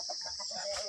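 A chicken gives a short burst of soft clucking calls, close by and faint, lasting under a second with no voices.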